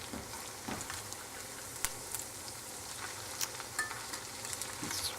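Potato latkes frying in a pan, a steady soft sizzle with scattered crackles and pops running alone throughout, fairly quiet.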